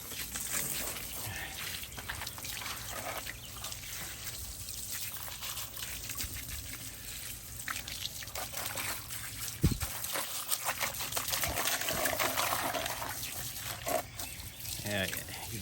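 Water pours and trickles steadily over an old dirty wheel being rinsed clean, a continuous splashing wash that swells louder toward the end.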